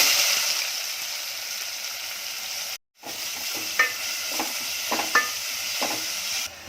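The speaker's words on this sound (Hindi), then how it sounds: "अब अपना बहुत सा गर्म हुआ तेल, यानी एकदम धुएदार हो गया, इसमें आप प्याज डालें" Onions frying in smoking-hot oil for a masoor pulao give a steady close sizzle, cut by a short silent gap, then continuing with a few sharp pops and crackles.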